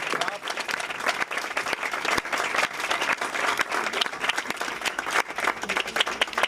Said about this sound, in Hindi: आप तालियों के साथ उनको वेलकम कर सकते हैं।